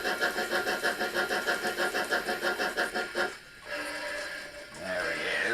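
An N gauge model LMS Crab locomotive runs along a layout with a steady, rapid rhythmic mechanical whirr and chuff that shifts to a lower, smoother hum partway through, close and moderately loud.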